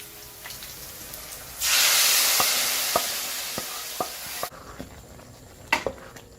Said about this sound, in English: Fry this until the onions are golden.